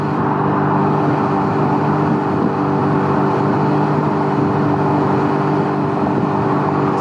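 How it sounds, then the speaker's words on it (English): Steady, loud engine and road roar from a Can-Am Ryker three-wheeler ridden in constant highway traffic, with wind rush and a continuous drone throughout and no talking. "Riding this thing, highway traffic is constant."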